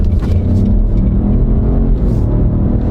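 A small car with a 1.3 liter turbo engine and a 9-speed automatic accelerates from inside the cabin, giving a loud, steady engine rumble and drone with no voices.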